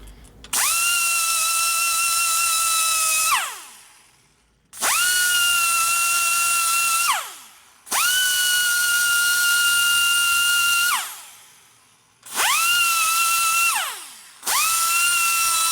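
A rotary cutter grinds a smooth radius on a 1977 Harley-Davidson Sportster Ironhead 1000cc motor part, whining high and steady in four long bursts separated by brief pauses, with no voices.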